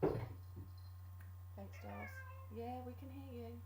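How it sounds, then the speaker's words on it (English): A pet cat meows several times at close range, its rising and falling cries laid over a steady low hum, with a brief voice speaking in between. "that was my cat"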